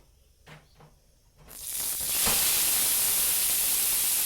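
Greens dropped into hot oil tempered with spices burst into a loud, sustained sizzle in the pan, rising after a couple of soft handling knocks and holding as a steady close hiss.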